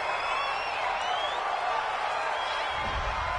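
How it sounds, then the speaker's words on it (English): Home crowd in a football video game, a steady wash of cheering and whooping from a large stadium audience, continuous and moderately loud, with a low thump near the end. "This home crowd, they're happy with that call."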